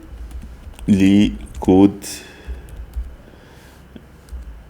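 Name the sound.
typing on a computer keyboard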